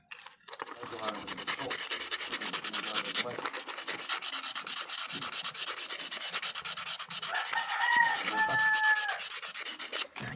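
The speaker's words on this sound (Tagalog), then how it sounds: "Kaya kailangan ko itong lihain muna bago hugutin." Sandpaper rubs rapidly back and forth on the motor shaft of an 18-inch Camel electric fan, a dense, continuous scratchy rasp that stays close and steady for several seconds.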